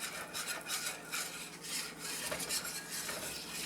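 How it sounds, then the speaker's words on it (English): Vigorous stirring of flour into turkey pan drippings in a cast iron pan to build a thick roux, a steady close scraping and rasping that runs throughout with no talk. "Stir it vigorously to mix in the flour and make the roux good and thick"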